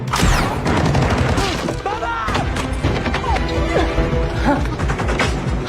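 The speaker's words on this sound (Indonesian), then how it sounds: "akibat baku tembak barusan, Dani harus keserempet tembakan" Gunfire trades back and forth in an action film, with rapid overlapping shots, crashes and impacts at high volume amid a busy soundtrack, the bursts dense and continuous throughout.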